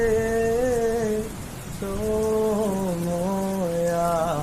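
Steady rain falls as a soft, even hiss throughout, mixed beneath a singing voice and melodic music that carry over it.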